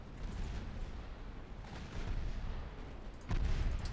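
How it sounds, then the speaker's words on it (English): Deep, rumbling naval gunfire and booming blasts in the Ultimate Admiral Dreadnoughts warship game as torpedoes are launched at a destroyer, a dense continuous roar with a heavier thump near the end. "Some torpedoes have been launched."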